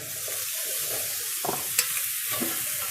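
Potato frying in a pan: a steady, soft sizzle with a few light stirring clicks, and no talk.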